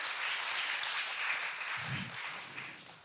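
Audience at a research-project meeting in a hall applauds to welcome a Seoul National University professor; sustained, fairly even clapping from a moderate crowd, slightly distant, with a brief low thump near the end.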